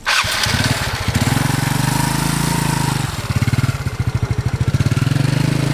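Yamaha Mio Sporty scooter with an upgraded CVT and its body panels removed, revving hard at full throttle close by, a loud rapid engine pulse that dips briefly midway and then surges again.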